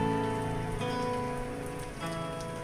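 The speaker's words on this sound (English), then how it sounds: "Finally raining, that's good to see." Rain falling in the survival video game Mr Prepper, a steady, even hiss of drops on surfaces that runs unbroken and moderately loud throughout.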